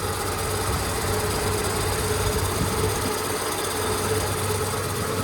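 A 1967 Chevy Nova engine with aftermarket exhaust idles steadily while warming up on the choke, a continuous low rumble with a faint knocking vibration, close and alone.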